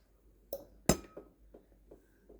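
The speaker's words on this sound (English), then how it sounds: "please grab a glass and let's toast" Wine glasses clink together in a toast: two sharp, bright taps close by, the second louder and ringing briefly, followed by soft handling noises.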